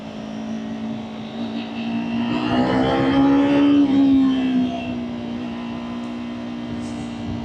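A 2026 Yamaha R3 motorcycle engine hums steadily while riding, swelling louder in the middle as if revving or passing close, then settling back to a lower drone.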